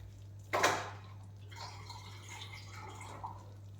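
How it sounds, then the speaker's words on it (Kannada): Water poured into a palak (spinach) mixture in a cooking pan: a brief close splash and pour followed by soft settling trickles and faint bubbling, quiet overall. "ಸ್ವಲ್ಪ ನೀರು ಹಾಕ್ಕೋತೀನಿ."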